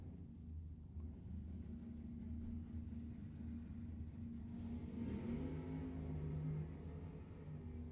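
Drag racing pair of a Camaro and a Nova at a drag strip, engines rumbling steadily at a distance before a louder surge of revving takes over in the second half.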